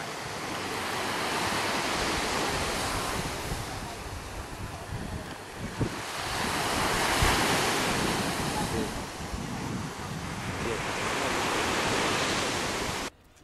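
Sea waves wash onto a beach at Sarti, Greece, with a steady, broad roar and slow swells in loudness over about thirteen seconds. No voices are heard.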